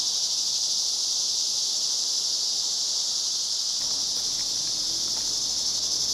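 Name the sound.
loud cicadas buzzing in southwest New Mexico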